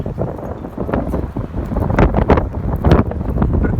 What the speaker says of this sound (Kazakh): Шырып алып кетесің сияқты жел болып тұр.